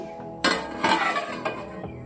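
A metal lid clanks onto a pot of simmering pomfret fish curry in a home kitchen, giving three or four sharp clinks and rattles of metal cookware, close and fairly loud, with no talking.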